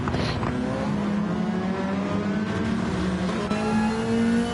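A GT-class race car engine roars in a racing video game at Monza, a loud, steady high-revving drone with gear-change pitch sweeps rising and falling continuously, with no talk over it.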